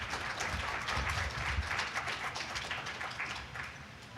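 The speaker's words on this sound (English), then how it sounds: "Let's give a round of applause." Faint, dense applause from an audience, steady clapping that tapers slightly toward the end, heard from a distance.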